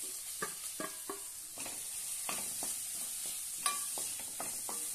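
Mashed potatoes being stir-fried in a pan, a soft background sizzle punctuated by scattered spoon scrapes and taps against the pan, fairly quiet with no voices.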